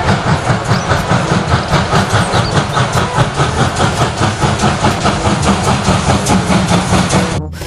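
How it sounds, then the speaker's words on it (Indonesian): A steam train rumbles past up close, loud and steady, with a rhythmic clickety-clack of wheels over rail joints continuing throughout, no voices. "ini kereta api uap."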